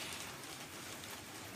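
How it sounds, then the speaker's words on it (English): Heavy rain pours steadily outside, a dense, even hiss of drops hitting surfaces that holds at a constant loudness throughout, with no voices. "Rain's getting so much louder now."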